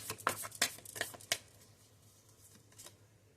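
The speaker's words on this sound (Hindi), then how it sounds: "एक कार्ड और निकालेंगे बस।" A tarot card drawn from the deck: a few quick, close papery flicks and slides in the first second and a half, then a faint last rustle over quiet room hiss.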